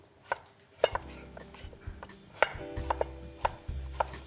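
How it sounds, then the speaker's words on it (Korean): Knife slicing white cucumber on a cutting board for cucumber kimchi, with a series of crisp, separate chops at an uneven rhythm, close and clear. "오이도 이렇게 썰어주시고요. 다 썰을 거예요. 이렇게 썰어주세요."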